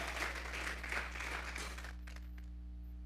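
Congregation clapping during a Spanish-language church service, a steady mid-loud wash of hands that fades out after about two seconds, leaving a low electrical hum.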